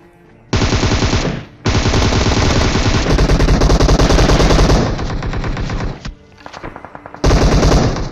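Automatic weapon fire in PUBG comes in loud, rapid bursts of shots with brief gaps, one short pause midway and a final burst at the end, with no talking.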